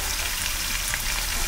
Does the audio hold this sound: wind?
no